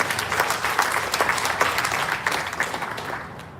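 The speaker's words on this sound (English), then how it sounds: "I think we deserve a round of applause for that." Audience applause at an outdoor Ramayan Yagna gathering in a Florida park, a dense, steady wash of clapping from a crowd that holds for several seconds and tapers slightly at the end.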